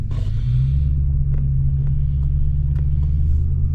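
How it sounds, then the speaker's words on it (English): A Mercury Marauder fitted with P71 police suspension drives on the road, its engine and tyres giving a loud, steady low rumble heard from inside the car, with no talking. "we're gonna go for a drive now, just so you can see what it's like"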